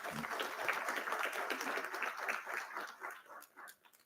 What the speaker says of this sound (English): Friends, a big round of applause for our Bhutanese friends.